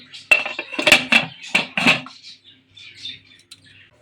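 Metal lid set onto a pressure cooker without its gasket while chicken tandoori cooks, several close clanks and clinks of metal on metal in quick succession, then quieter faint rattles.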